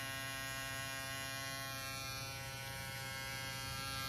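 An Andis reSURGE electric shaver runs with a steady, close, continuous motor hum and buzz, unchanging throughout with no talking.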